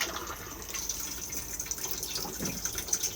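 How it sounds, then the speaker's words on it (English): Flush of a Thetford cassette toilet inside a Swift Corniche 664 caravan: a steady rush of running water lasting the whole few seconds, close and moderately loud, with small splashy fluctuations and no voices. "And then to flush, we just press the blue button up here."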